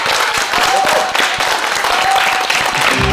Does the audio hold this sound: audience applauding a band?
yes